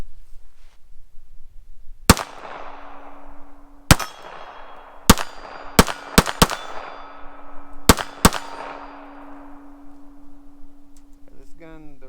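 A Bersa Thunder 380 pistol fires 95 grain ammunition in eight loud, sharp shots at irregular intervals, each with a ringing tail, close to the listener.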